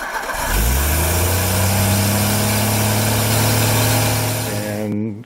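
A 1958 Ford F100 V8 cranks and catches on fuel squirted into its Holley carburetor, then runs steadily at a loud, close idle for about five seconds before cutting off abruptly.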